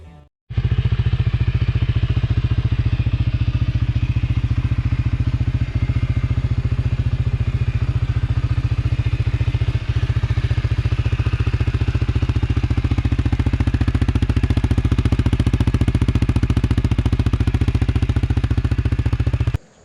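A used CFMoto CFORCE 400 entry-level ATV with a roughly 30-horsepower 400cc engine idles steadily, a close, constant low rumble with a faint rapid knock that holds without change for about twenty seconds.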